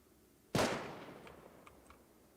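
A single sharp gunshot in the survival game Rust cracks out, its echo tailing off over about a second, followed by a few faint distant pops.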